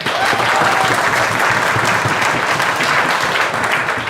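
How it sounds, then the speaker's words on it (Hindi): A classroom audience bursts into sustained, dense clapping for about four seconds, loud and close throughout. "तो ताली तो बजा दो यार"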